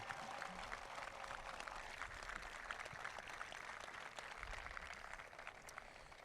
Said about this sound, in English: And give a big clap for that.